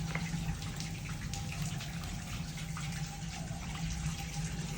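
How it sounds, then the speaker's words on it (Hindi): Rainwater from a roof pours down steadily, a close, continuous splashing gush like water spilling onto a hard surface, with no talk. "सारा ये छत का पानी में नीचे आ रहा है"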